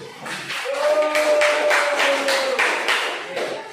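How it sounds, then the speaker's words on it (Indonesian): Classroom clapping for a teacher during a lesson practice session, a short burst of many hands with a tonal hum running underneath, rising and fading over a few seconds. "Berikan tepuk tangan dulu"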